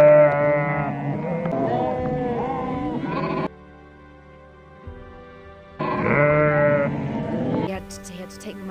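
A large flock of about 500 sheep on a Kyrgyz pasture, heard as loud, overlapping bleats in two dense bursts separated by a quieter stretch of low background sound.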